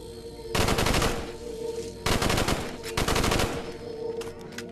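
Bursts of rapid automatic gunfire from the zombie VR shooter Contractors ring out in three separate loud volleys, each lasting about half a second to a second, with brief pauses between.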